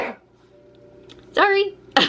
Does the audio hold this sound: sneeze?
yes